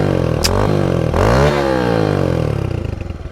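A small mini bike engine runs loud and close, revving up and down with clattering mechanical noise as the pitch rises and falls; the bike is burning oil and is ridden in gear.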